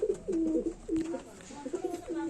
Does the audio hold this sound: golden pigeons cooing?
yes